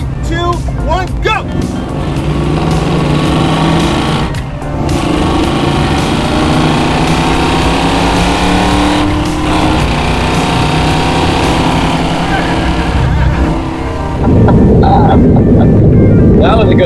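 A drag car and a 1967 Camaro SS race side by side, engines roaring loudly and continuously from nearby with shifting pitch, while voices talk and shout over the noise.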